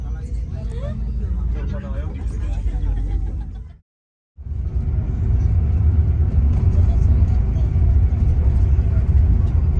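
A low, continuous road rumble of a double-decker bus on a toll highway, with a brief silent gap partway through, and speech layered over the noise.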